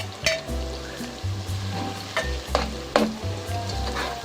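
Green chillies hit hot oil in a pot for chicken biryani, a loud close sizzle broken by several sharp stirring clacks and a low steady hum underneath, no speech.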